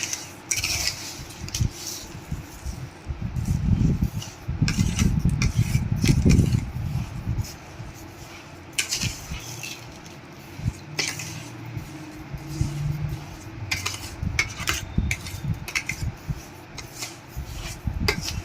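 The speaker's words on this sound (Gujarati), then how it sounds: "તો આપણે બધી ખાંડ એકદમ સરસ ઓગળી જાય ત્યાં સુધી આપણે આને મિક્સ કરવાનું છે" A spoon rubs and scrapes steadily around a pan as sugar is stirred into grated raw mango for keri no chundo, a continuous close gritty scraping with occasional louder strokes and no talk.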